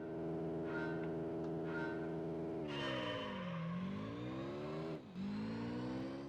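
A Honda S2000 LM race car in Gran Turismo 3 revs hard, its engine note holding high, then dropping and climbing again through gear changes with a brief dip near the end, loud and alone.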